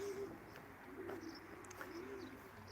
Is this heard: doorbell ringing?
no